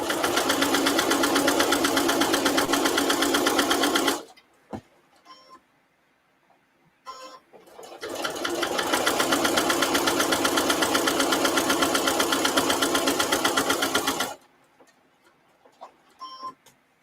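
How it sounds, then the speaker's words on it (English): A sewing machine stitches around the edge of a fabric placemat in two sustained bursts of rapid mechanical whirring, with short pauses and faint clicks between runs. "So we're stitching all the way around."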